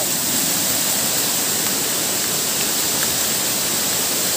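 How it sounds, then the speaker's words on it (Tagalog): Steady, dense roar of Engkanto Falls in Libmanan, heard from the top of the falls, a loud continuous wash of falling water with no breaks. "Sa taas po ito ng isang falls ha."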